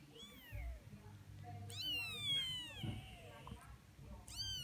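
A cat meows repeatedly indoors, its rising and falling cries loud and close, with someone talking underneath between the calls.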